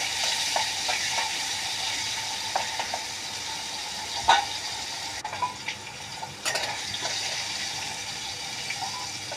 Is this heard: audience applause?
no